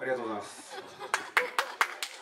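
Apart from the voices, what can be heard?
applause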